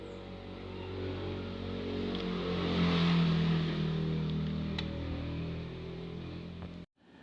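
An overheated amplifier's cooling fan, previously stuck, whirs up once power is applied: a steady close motor hum that swells mid-way, holds, then cuts off abruptly near the end.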